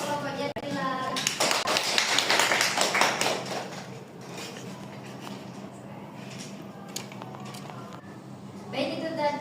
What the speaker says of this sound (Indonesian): Tepuk tangan untuk kelompoknya Lila